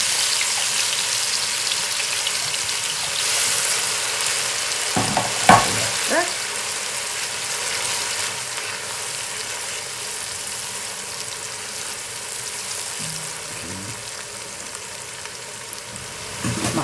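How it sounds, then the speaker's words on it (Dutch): Chopped pepper, garlic and onions sizzle and crackle in hot oil over high heat in a steady hiss, with a few brief clatters of stirring partway through. "Ik heb gechopt peper, knoflook en uien. Die ga ik in de olie bakken."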